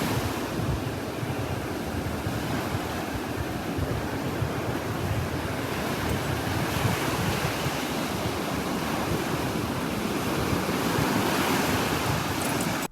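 Continuous roar of ocean surf with waves washing in on shore, mixed with wind buffeting the microphone, loud and steady throughout.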